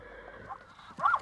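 A wild horse being tamed by gauchos gives a short, close whinny near the end, after a quiet stretch.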